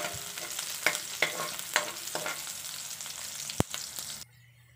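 Chopped garlic sautés in a pan for a chicken and pineapple dish, a soft steady frying crackle broken by several scraping stirs and one sharp clack before it suddenly drops away.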